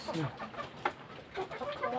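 A chicken clucks close by in short, uneven bursts.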